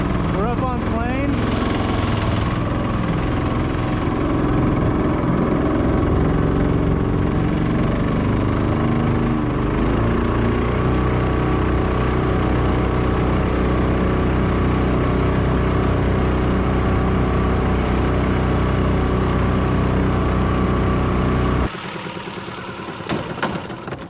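A boat engine runs hard at speed on a maiden voyage, a loud steady drone that holds without a break before cutting out abruptly near the end.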